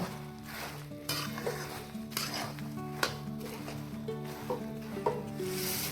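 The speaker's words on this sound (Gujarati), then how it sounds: "આ જ કડાઈમાં મમરા એડ કરવાના છે અને હલાવતું જવાનું છે" Puffed rice being stirred in a metal pan for jaggery laddoos, a dry rustling scrape with periodic clinks of the spoon against the pan, steady and close.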